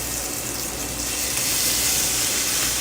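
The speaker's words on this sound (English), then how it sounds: "That sizzle." Food sears in a hot pan over medium-high heat, giving a steady, loud, hissing sizzle that fills the whole stretch without pause and without voices.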